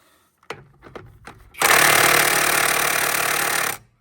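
Impact tool hammering at stuck lug nuts on a Sprinter van, a few short knocks and taps first, then a loud, continuous rattling burst lasting about two seconds before cutting off abruptly.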